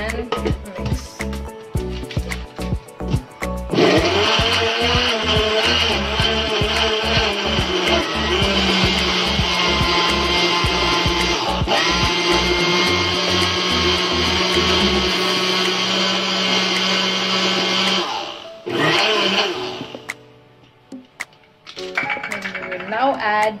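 An electric blender whirs steadily and loudly while mixing a banoffee smoothie, after a series of rhythmic clicks as it starts, then stops abruptly and restarts briefly near the end.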